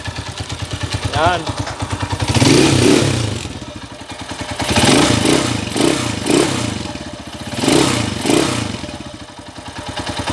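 A Honda TMX155 motorcycle, a 28-year-old De Platino model, runs after repair of a holed exhaust, its engine thumping with a steady close idle and periodic revs, while someone talks over it.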